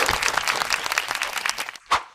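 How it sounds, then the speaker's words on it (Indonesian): An audience breaks into applause, many hands clapping in a full, busy patter for nearly two seconds before it stops abruptly, followed by a single short sound. "Tepuk tangan dulu."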